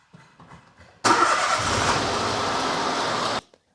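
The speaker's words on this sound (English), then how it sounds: "we can run the engine, let it circulate through the filter" Quiet cranking gives way to a Citroen C1, Peugeot 107 or Toyota Aygo engine catching and roaring steadily, loud and close, during an oil service, before abruptly cutting off.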